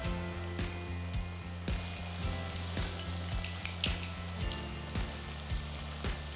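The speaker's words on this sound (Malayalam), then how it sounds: "ഫ്രൈ ചെയ്യുമ്പോൾ ഒരുപാടിട്ട് നിറയ്ക്കില്ല, ഇച്ചിരി ഗ്യാപ്പ് ഇട്ട് വേണം പീസസ് കിടക്കാനായിട്ട്." Chicken pieces deep-frying in hot oil for honey glazed sesame chicken, a soft steady sizzle and bubbling with occasional sharper pops and crackles, fairly quiet and close, no talking.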